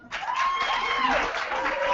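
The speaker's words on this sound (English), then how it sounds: "Now keep the applause going." Audience applause at a Louder Than a Bomb Great Plains 2014 slam poetry bout, steady and full for about two seconds, with faint tonal sound and a little voice mixed into the clapping.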